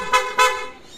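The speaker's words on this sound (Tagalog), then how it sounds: "Yan yung busina niya." A PIAA horn fitted to a Yamaha TMAX 560 scooter gives two short, loud toots in quick succession, close and bright, with nothing else heard.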